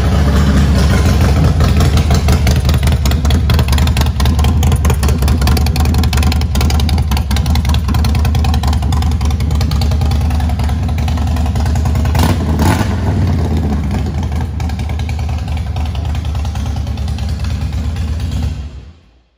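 A 2005 Harley-Davidson CVO Fat Boy V-twin idles loudly and close, with a deep, steady thump from its aftermarket pipes and one brief blip of revving near the middle, before the sound cuts off at the end.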